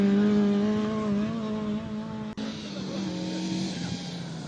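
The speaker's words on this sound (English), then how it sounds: "That box-shaped Toyota, arguably one of the best rally cars involved in South African rallying at that stage" Box-shaped Toyota rally car racing on a gravel rally course at a South African national championship round near Bronkhorstspruit, its engine droning loud and close with a shifting pitch, tires skidding, and a brief cut partway through.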